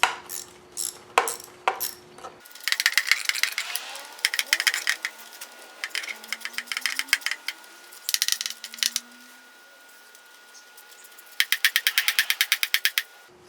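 Socket ratchet loosening 10 mm oil pan bolts on a 12 valve Cummins diesel, close and clear: scattered clicks, then long runs of quick ratcheting clicks in bursts, with short pauses between bolts.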